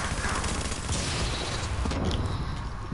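Sustained video-game gunfire aimed at a turret, dense and continuous with rapid overlapping shots and booms filling the whole stretch at steady loudness.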